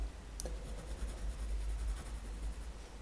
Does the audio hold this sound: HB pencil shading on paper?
yes